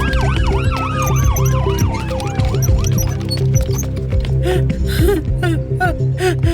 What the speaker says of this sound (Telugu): గోపి సార్, అంబులెన్స్ ఫోన్ చేయండి.